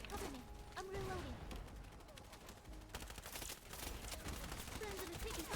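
Gunfire in the shooter game Wild Assault, a rapid run of repeated shots in bursts throughout, moderately loud against game noise with voices talking over it.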